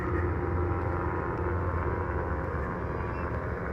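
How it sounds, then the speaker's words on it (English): Two police helicopters circling over a cordoned-off area produce a constant, heavy low rotor and engine drone that fills the whole stretch at a strong, unbroken level, with no speech. "You got 2 choppers in the air."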